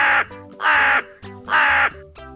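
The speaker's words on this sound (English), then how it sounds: "Crow." A crow gives three loud, harsh caws in steady succession, close and prominent, with quieter music playing between the calls.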